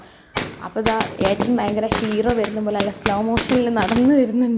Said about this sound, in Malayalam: അത് മാലപ്പടക്കാണ് കേട്ടോ പൊട്ടിക്കുന്നത്.